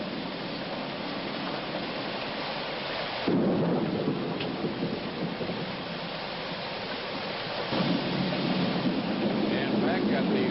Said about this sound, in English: back at the Renaissance Hotel, they are enjoying the first decent rains in 4 months